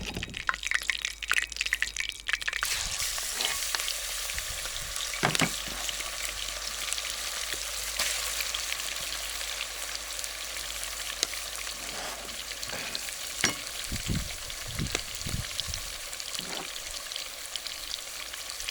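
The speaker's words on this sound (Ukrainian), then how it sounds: "нарізали м'ясо і засипаємо його в нашу кипячу олійку" Chopped meat tipped into boiling oil, a loud rush of frying that settles into a steady bubbling sizzle with scattered pops and stirring knocks running throughout, nobody talking.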